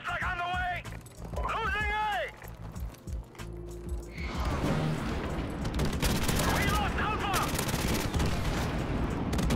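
P90 submachine gun fire in Call of Duty Modern Warfare Remastered, sustained rapid bursts filling the second half, loud and dense, with someone talking over the opening seconds.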